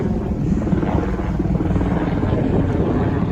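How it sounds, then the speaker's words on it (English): A helicopter flies overhead near Aberdeen Airport, likely heading to or from offshore oil rigs, a loud continuous rotor and engine roar that stays steady throughout. "So just distracted by a helicopter."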